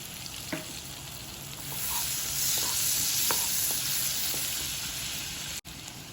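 Chopped ginger frying in a pan for butter chicken gives a steady broadband sizzle, with a few light clicks and taps from stirring scattered through it.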